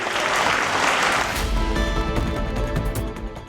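Crowd applause, a dense burst of clapping that swells loudly and then thins out over a few seconds.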